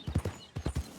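A horse's hooves clip-clop in the video game Red Dead Redemption 2, with crisp, close hoofbeats falling in quick groups of three in a galloping rhythm.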